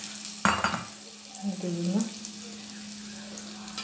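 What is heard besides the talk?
mustard seed tempering sizzling, being stirred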